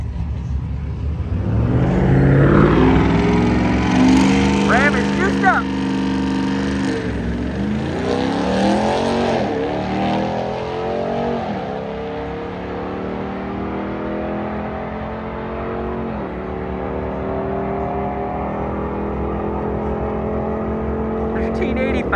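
A car at the Bandimere Speedway drag strip roars and revs hard, then its engine note rises and sweeps through the gears as it pulls away and fades into a steady distant drone.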